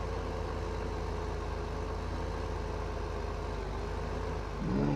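A tractor engine idles steadily in a farming video game, a constant low droning rumble that stays even and close throughout, with a brief swell near the end and no talking.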